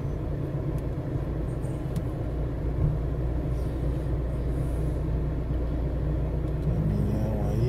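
A truck lurches along a potholed, bumpy road in Parnamirim, Brazil. Its engine gives a steady, loud, low rumble that carries on without a break and with no voices.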